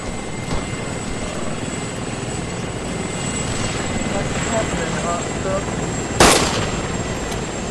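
A helicopter engine in Arma 3 roars steadily up close, with a sharp crack of distant gunfire near the end and voices talking over the din.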